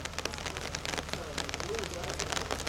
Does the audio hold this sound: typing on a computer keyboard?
no